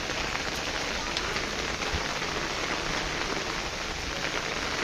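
Heavy downpour drums steadily on a rooftop garden in a dense, even roar of rain with no letup, close and loud.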